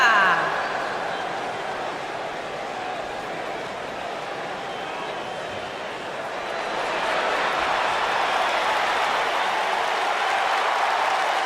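A crowd roars steadily in a WWE wrestling video game on PS4, a dense, continuous wash of cheering that swells louder partway through before a tag match.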